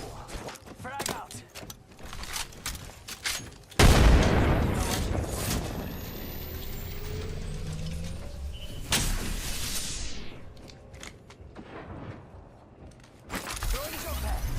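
A frag grenade goes off in the battle royale shooter Apex Legends with a sudden loud blast and a long rumbling decay. Other game effects follow, and a voice talks over them.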